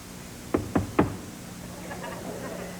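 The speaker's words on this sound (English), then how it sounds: "Sorry to knock so loud, Mrs. Tatum, but it's your gynecologist." Three sharp knocks land on an apartment door in quick succession, loud and close against a quiet room hum, and then the sound stops.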